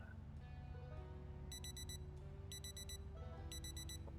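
A wind-up-style alarm clock in the video game Project Zomboid rings in three bright, harmonic beeping bursts about once a second, loud and close over a steady low in-game background hum.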